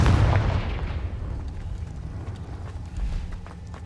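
The Confringo blasting spell in Hogwarts Legacy lands as a heavy booming burst at the start, then decays into a rumbling, crackling tail with scattered debris ticks.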